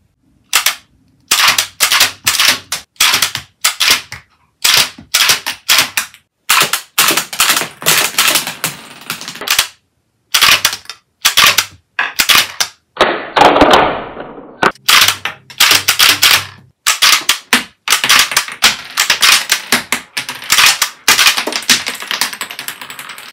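A Lego rubber band gun fires and ejects shells in a rapid run of sharp, loud plastic clacks and snaps, bursts of near-identical clicks separated by short pauses, with one longer hissing rattle midway and no talk.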